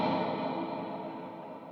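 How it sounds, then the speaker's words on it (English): Baritone guitar ringing out through a hall reverb effect, a sustained chord decaying slowly with a long, washy tail, fairly loud and alone with no talk. "this Hall reverb on."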